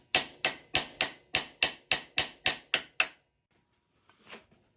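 Ten sharp, evenly spaced metal taps on a part of a 1972 Yamaha DT2 motorcycle, ringing close and loud for about three seconds, then a brief soft scrape after a pause.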